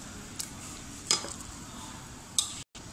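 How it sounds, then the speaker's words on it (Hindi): A spoon stirs chicken with black pepper and garam masala in a cooking pot, giving a few sharp scraping clicks against a faint steady background with no talk, for the traditional Sobat dish of D.I. Khan. "अच्छी तरह से मिक्स कर लेंगे।"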